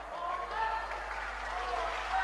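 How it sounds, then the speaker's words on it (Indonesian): Audience applause from a crowd at an Islamic preaching talk about drugs, a steady continuous wash of clapping that holds throughout without breaks, mid-distance and fairly quiet. "Emang gak capek tepuk tangan terus?"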